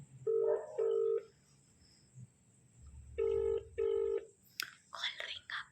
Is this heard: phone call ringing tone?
yes